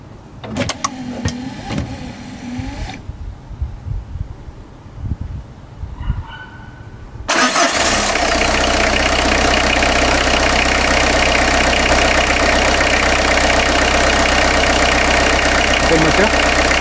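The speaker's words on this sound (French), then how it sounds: "Démarrer le moteur." A car engine cranks and catches, then settles into a steady, loud idle hum that runs unbroken to the end, with some earlier clicks and handling noise before the start.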